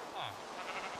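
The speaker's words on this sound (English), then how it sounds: "I hear another sheep." A single sheep bleats once in the Minecraft video game on Xbox One, a short, faint in-game sound with a voice briefly overlapping.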